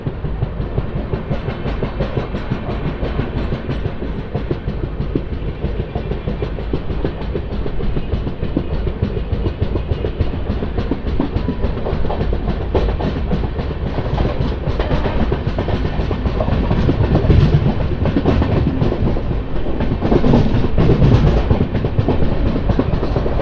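A Janmabhoomi Superfast Express, train 12806 on the Lingampalli to Visakhapatnam run, rolls on steadily after leaving Eluru, its rumble and clickety-clack of wheels continuous and close, swelling slightly louder toward the end.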